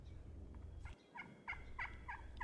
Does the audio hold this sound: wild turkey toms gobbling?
yes